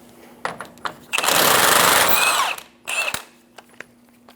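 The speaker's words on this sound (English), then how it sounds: "Using a 27mm socket, remove the lower ball joint nut." An impact wrench with a 27mm socket removing the lower ball joint nut on a 2014-2018 Chevrolet Silverado 1500, a loud sustained rattling burst of about a second, with shorter tool bursts and clanks before and after.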